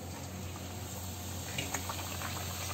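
Bhature dough hitting hot oil and frying, a steady loud hiss and bubbling sizzle that holds evenly throughout with no voices.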